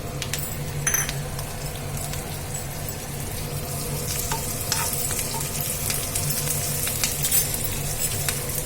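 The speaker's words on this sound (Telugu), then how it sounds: "కొంచెం ఆవాలు వేసేసుకున్న తర్వాత మనము ఈ కరివేపాకు కొత్తిమీర పచ్చిమిర్చి ఎండుమిర్చి అయితే వేసేసుకుందాము" Mustard seeds, curry leaves, coriander and green and dry chillies sizzle and crackle steadily in a pan of hot oil for ajwain rasam, with stirring scrapes and occasional clinks close by.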